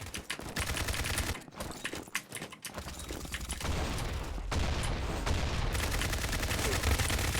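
Rapid gunfire and explosive bursts from the first-person shooter game Combat Master crackle in dense, fast volleys with short pauses, loud and close throughout.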